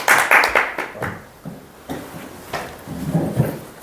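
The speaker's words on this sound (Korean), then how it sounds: "우리 신요한 선교사를 박수." A church congregation claps for a missionary back from the Philippines: a short burst of sharp, close hand claps up front, fading into scattered taps and quieter murmuring sounds.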